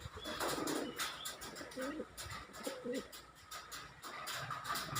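Two male pigeons coo in soft, low repeated phrases nearby, several calls spaced across the clip over a faint background murmur.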